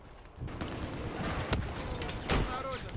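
Gunfire in the video game Battlefield 4 during a tense firefight, sharp shots and bursts crackling over a dense, noisy battle bed with a few louder reports standing out.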